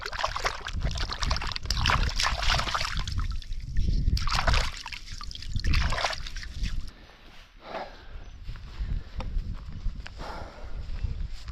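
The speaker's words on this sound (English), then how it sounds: "Just giving him a good wash, so we're not eating mud around the fire later on." Freshly caught mud crab being washed in water outdoors in the bush, with splashing and sloshing bursts that come in irregular waves, fairly near, then grow quieter toward the end.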